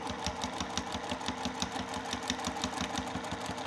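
A sewing machine stitching the seam of a fabric makeup bag runs in a fast, steady mechanical rhythm of rapid needle strokes, close and alone without talk.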